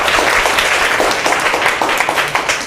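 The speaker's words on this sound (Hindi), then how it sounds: "ताली बजाओ इसके लिए" Schoolchildren in a government school classroom clap together, a dense, loud burst of applause that fades slightly toward the end.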